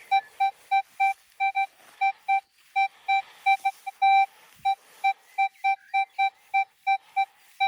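A Minelab X-Terra Elite metal detector gives a steady run of short, even electronic beeps at a quick regular rhythm, close and clear with no talking.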